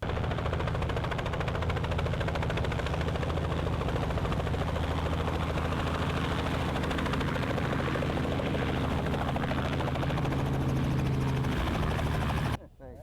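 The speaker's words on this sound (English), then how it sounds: "what's an awesome time is hunting hogs from a helicopter." Helicopter flying during a hog hunt, a steady loud rotor thump and engine drone running continuously for most of the clip before cutting off abruptly near the end.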